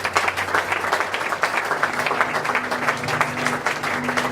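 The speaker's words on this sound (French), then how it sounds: "Est-ce que quelqu'un peut acclamer pour le Seigneur?" A church congregation claps and applauds loudly and continuously, a full room of hands sustained throughout, with a faint low musical tone running underneath.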